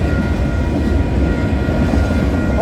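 A CPKC freight train passes close at Leaside on the Bell subdivision near Toronto, a loud continuous rumble and rolling clatter of railcars filling the whole stretch.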